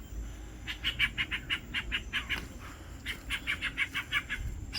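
A small bird repeats quick, high chirping calls in two bursts of rapid notes on the Matafao Peak hike in American Samoa, fairly close and clear over a low background rumble.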